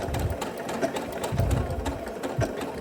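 A sewing machine stitches an appliqué in short, close bursts of rapid mechanical whirring, rising and pausing unevenly as the fabric is guided and pivoted.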